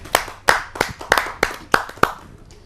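Sparse clapping at a Hindi poetry gathering as a poet is welcomed to the stage, seven crisp, evenly spaced claps sounding close and distinct, like one or two people clapping rather than a full crowd.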